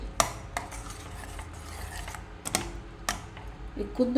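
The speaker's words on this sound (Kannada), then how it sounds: "ಆಮೇಲೆ ಸ್ವಲ್ಪ ಮಿಕ್ಸ್ ಮಾಡಿಕೊಡುವ ಚೆನ್ನಾಗಿ" Avarekalu curry (field bean saaru) stirred in a pot, with a few sharp utensil scrapes and clinks against the pot at irregular intervals over a quiet kitchen background, close and moderately loud.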